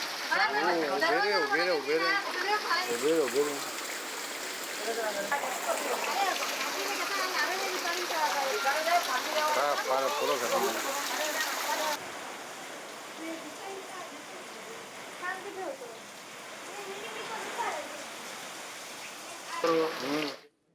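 Heavy rain in Kolhapur with flood water rushing along a waterlogged street: a loud, steady broadband roar that eases partway through, with a voice talking over it.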